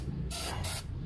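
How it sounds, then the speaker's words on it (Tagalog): Brake cleaner is sprayed onto the brake of a Mitsubishi Xpander in two quick, close hissing bursts separated by a brief gap, over a low background hum. "Na sprayan ko na rin siya ng cleaner spray natin."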